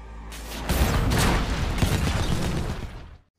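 A loud explosion erupts in the Tomb Raider (2018) film and becomes a sustained, rumbling roar of blast and debris that fills the scene before cutting off sharply.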